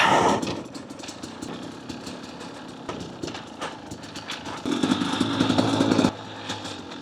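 A 2024 Husqvarna TE250 TBI dirt bike engine revs and burbles nearby, rising and falling with throttle changes, with a louder surge near the end before easing off.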